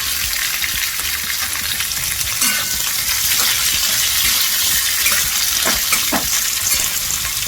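Mixed vegetables, including carrots, beans and potatoes, fry in a pan for navaratna korma with a loud, dense, hissing sizzle. Occasional stirring knocks break the steady sound.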